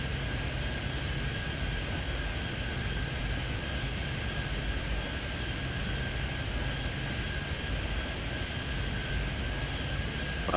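Continuous jet aircraft engine roar from a Concorde in the airport simulation game Airport Madness 3D, a steady broadband drone with a thin tonal whine, constant and unvarying throughout, with no voices.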